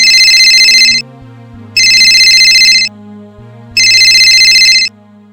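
A phone ringtone rings loudly in three repeated bursts, a bright electronic melody with short pauses between each ring.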